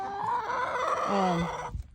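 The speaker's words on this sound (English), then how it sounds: "So those chickens, I tell you." Chickens clucking with a rooster crowing nearby in a farmyard, a steady layered run of calls lasting nearly two seconds before cutting off.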